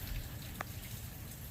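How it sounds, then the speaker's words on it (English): Rain falling on a front yard with fresh sod, a soft continuous hiss of drops with one brief sharper tap, quiet and close. "It won't stop raining."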